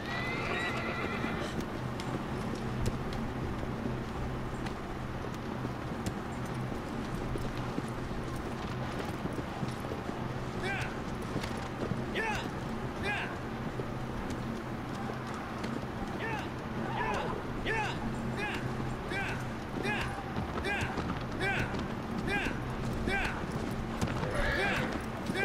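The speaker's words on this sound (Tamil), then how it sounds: "வேகமாகவே போக மாட்டேங்குது குதிரை" A horse in Shadow of the Colossus gallops with a rapid, steady clip-clop of hooves and lets out a whinny, over ambient game sound while a person talks.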